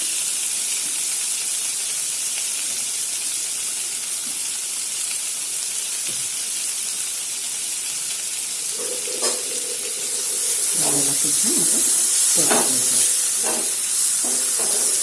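Chopped tomato cooks with spices in a pan for sprouted matki usal, hissing and sizzling steadily, then a spoon stirs and taps the pan in several bursts.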